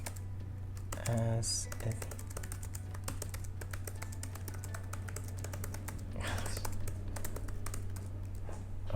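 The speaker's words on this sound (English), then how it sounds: "Sorry, typing badly here." Quick, uneven keystrokes clatter on a computer keyboard throughout, close and continuous, while a person speaks briefly over the typing.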